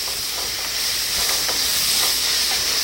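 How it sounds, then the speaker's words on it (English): Bacon frying in a pan gives off a steady, close hiss of sizzling grease that holds evenly throughout, with faint crackles and no voices. "I got my bacon going here, so I need that grease."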